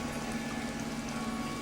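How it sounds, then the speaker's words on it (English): Water from a pot of cooked lasagna noodles being strained off, a steady continuous rushing and bubbling wash of liquid at close range with no pauses. "we'll strain the water out"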